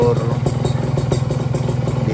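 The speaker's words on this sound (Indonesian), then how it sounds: "DB dari Ninja RR yang menggunakan knalpot racing" A Kawasaki Ninja RR motorcycle with a racing exhaust idles close by, a loud, rapid, uneven popping burble that runs steadily throughout.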